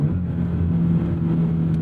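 A sports car engine with an MXP catback exhaust idles with a deep, steady exhaust drone, a low rumbling hum held at a constant level throughout.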